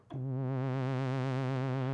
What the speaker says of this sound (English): What you're hearing there is Oscillator 1 being pitch varied,